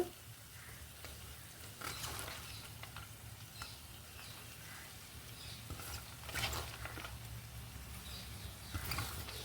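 Amaranth leaves sizzle and crackle in a hot pan for a Telugu curry, a soft steady frying hiss with occasional louder bursts of stirring and spatter.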